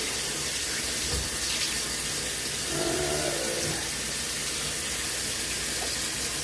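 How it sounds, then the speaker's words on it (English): Water pours steadily off washed rice as it is drained in a home kitchen while cooking Haitian rice, a soft continuous splashing stream with no talking. "I can drain it with no rice falling off"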